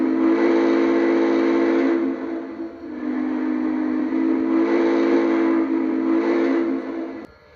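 A loud, steady whistle from a Lionel Legacy F-19 4-6-2 Pacific model steam locomotive sounds in two long blasts separated by a short dip, then cuts off.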